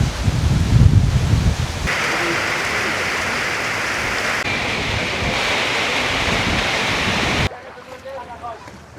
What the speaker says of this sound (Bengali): অ্যাকচুয়ালি প্রচণ্ড বাতাস এবং সব কিছু উড়িয়ে নিয়ে যাবে মনে হচ্ছে